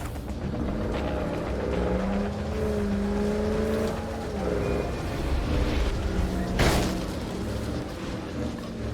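Vehicle driving in the Dead Rising video game, a steady engine drone with shifting pitch under game noise, ending with a sudden loud crash or impact.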